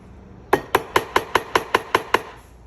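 Hammer planishing a 22k apricot gold chain: nine sharp metallic strikes in a steady, even rhythm, close and clear against a quiet room with no talk.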